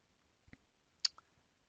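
Two or three light, close clicks from a computer mouse, sharp and brief against near silence.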